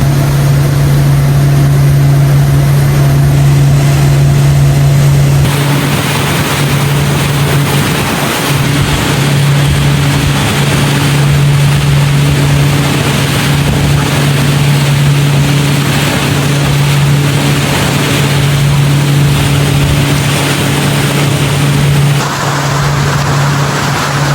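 A boat travels along the Napo river in the Amazon jungle between Peru and Ecuador. A steady motor drone with a low hum runs throughout, under rushing wind and water noise, and the tone shifts slightly partway through.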